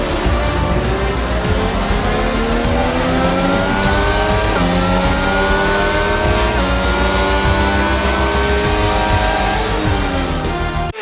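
Formula 1 car in the F1 22 video game circulating after the Canadian Grand Prix: a loud, continuous high-revving engine whine with rising and falling pitch sweeps as it shifts through gears, close and steady with no talk.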